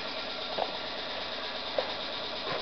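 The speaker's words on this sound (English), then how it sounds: "Putting about 2 amps into the motor at 5 volts" A small electric motor running on about 5 volts and 2 amps turns slowly at roughly 30 RPM, giving a steady low mechanical whir with a few faint soft clicks and no talking.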